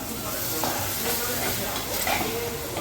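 Masala for bitter gourd gravy sizzles steadily in a hot pan while a spoon stirs through it, scraping now and then, a continuous close frying hiss.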